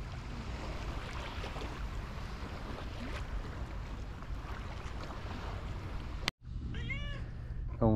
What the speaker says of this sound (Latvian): Mīļš kaķis?